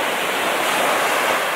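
Ocean waves wash onto a beach shore at El Nido in a loud, continuous roar of surf, broad and steady throughout the short stretch, with no talking.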